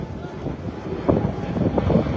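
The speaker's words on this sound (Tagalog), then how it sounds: "Ang lakas ng hangin." Strong wind at a beach buffets the microphone in loud, gusty bursts that swell through the short stretch, with no talk.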